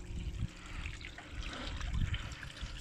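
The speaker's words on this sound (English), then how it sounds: "So there you go, we're starting to move some water." Water is pushed through a 3D printed centrifugal pump running on 12 V, a steady low rushing and gurgling flow that is fairly quiet and continuous throughout.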